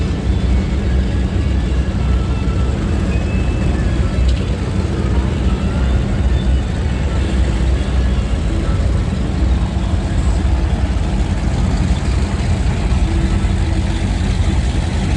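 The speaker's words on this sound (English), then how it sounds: "A bunch of crazy ass boats just driving up and down." Boats and personal watercraft run back and forth on open water, a continuous loud engine drone that stays steady for the whole stretch.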